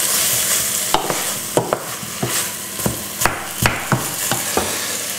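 Roasted butternut squash chunks are stirred with a spoon in a hot pan over high heat, giving a steady sizzle broken by about a dozen sharp scrapes and clacks in an uneven rhythm, close and fairly loud.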